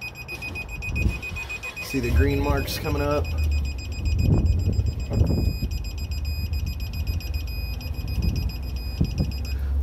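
A digital torque wrench emits a steady electronic beeping tone while cylinder head bolts are torqued toward 115, persisting through the clip beneath a man's nearby speech and workshop clatter.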